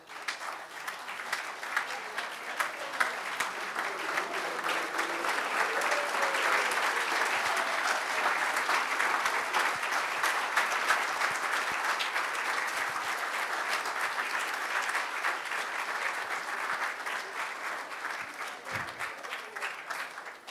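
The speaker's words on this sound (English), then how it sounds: "let's all give them a round of applause" Sustained applause from a standing conference audience of delegates at the closing of a PMI Africa event in 2019, steady and dense clapping that swells and holds for about twenty seconds before slowly thinning.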